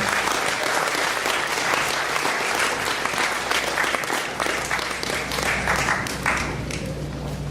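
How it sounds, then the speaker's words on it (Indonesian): Audience at an entrepreneurship workshop for university students applauding at the close, a dense, loud, steady clapping that holds throughout with a faint voice mixed in. "sekali lagi kita berikan tepuk tangan yang meriah"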